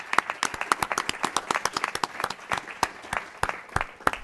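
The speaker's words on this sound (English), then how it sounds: "ask that we all give a big round of applause to Fran Marie for a great day." An audience at a health stewardship symposium in Aspen claps in steady applause, many hands producing a dense, lively patter that continues evenly throughout without voices.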